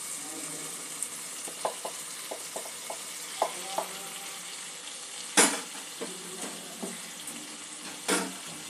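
Potatoes and peas sautéing with spices in a pan for a paneer curry, a soft steady sizzle broken by scattered stirring clicks and scrapes, with one louder clatter partway through.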